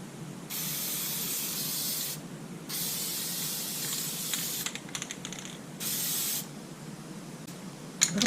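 Aerosol spray paint can hissing in several long bursts as motorcycle plastics are painted for a 2020 Suzuki DR650 sidecar build, with short pauses between strokes and faint clicks and handling noises.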